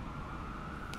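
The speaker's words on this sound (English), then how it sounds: "And hear the sirens going off in the background." Sirens wail in the background during a Moomba parade, a steady distant tone under a constant rumble of street noise for about a second.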